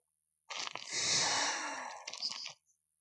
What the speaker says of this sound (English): Probably you did hear my breathing like that.